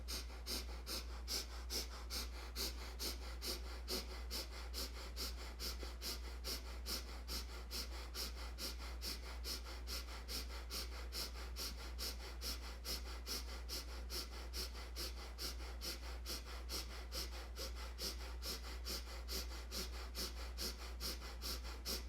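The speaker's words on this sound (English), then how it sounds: "coming into position for some breath work. Arms up, even inhales and exhales." Steady, even inhales and exhales in a repeating rhythm during a seated breath work exercise with arms raised, soft and close with no talking.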